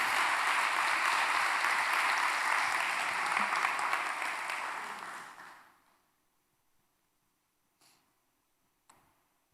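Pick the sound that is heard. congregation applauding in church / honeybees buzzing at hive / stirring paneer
congregation applauding in church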